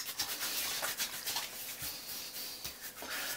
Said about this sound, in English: I actually like to rub it in a little bit.